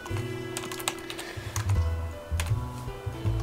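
Quick, light keyboard clicks come in short bursts while someone plays the game Rust, close and fairly quiet, over a low steady hum with faint tonal game sounds underneath.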